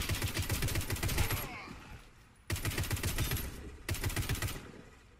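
Bursts of rapid automatic fire from a Calico M951S fully automatic sniper rifle in Warface, three separate strings of quick shots with brief gaps between them, close and sharp.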